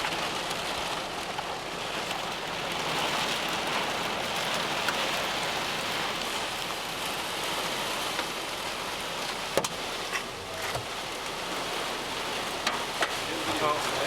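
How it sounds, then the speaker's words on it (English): Dense, steady rain and hail drumming on the roof of a storm-chasing car in a hailstorm, a continuous hiss with a few sharper, louder hailstone knocks standing out near the end. "Just in time for the hail."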